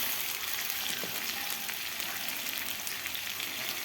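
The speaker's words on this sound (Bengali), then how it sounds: "মশলা আমি কষাই নেব। দিয়ে দেবো কাঁচামরিচ বাটা" Spices frying with green chili paste for a chana dal ghonto, a dense continuous hiss and sizzle close up with faint stirring clicks, no talking.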